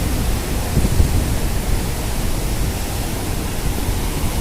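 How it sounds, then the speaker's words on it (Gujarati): Water of the Brahmani river at Kedar rushes past in full flood over rocky edges, a loud, steady, broadband roar close by with no break or talk. "જે પાણી જે છે એ પૂર પૂરજોશની અંદર આવે"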